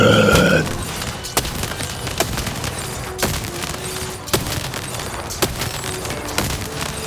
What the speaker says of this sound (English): More ranged artillery! More destruction!